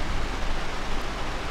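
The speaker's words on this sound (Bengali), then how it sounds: "বৃষ্টি হচ্ছে" Rain in the video game GTA San Andreas, a steady, even wash of falling rain noise, with no other distinct sounds.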